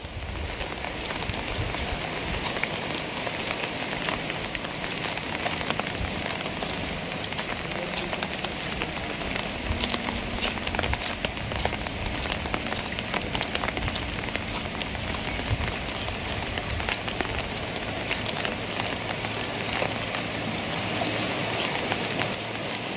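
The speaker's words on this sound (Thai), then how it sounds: "น้ำไหลแรงไหลเชี่ยวมาก" Steady, dense rushing of fast-flowing river water at the source of the Chi River in Thailand, swollen by heavy rain, loud and unbroken throughout with a constant hiss.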